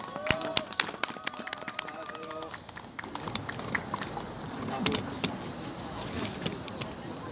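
Outdoor crowd at a candlelight rally in a public square applauding to welcome a singer, with scattered sharp claps that build into a steady, moderately distant round of applause, with a few voices mixed in.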